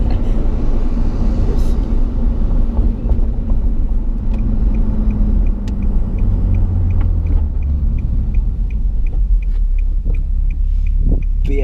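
A Nissan 370Z NISMO with non-resonated test pipes rumbles steadily throughout, a deep throaty exhaust note that swells and eases slightly, close up and loud with no talk.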